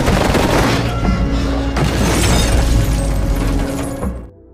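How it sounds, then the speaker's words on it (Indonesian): Dense burst of automatic gunfire riddling a car during a gangster action film scene, loud and continuous with booming impacts and shattering glass, cutting off abruptly at the end. "para anak buah Benny langsung memberondong mobil mereka dengan tembakan"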